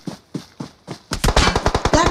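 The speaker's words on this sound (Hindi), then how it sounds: "फायर कर रहा है" Rapid gunfire in a shooting video game: four spaced single shots give way to a loud, fast automatic burst of closely packed reports.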